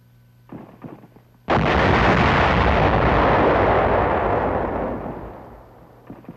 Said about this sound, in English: Resulting explosions close all but the biggest caves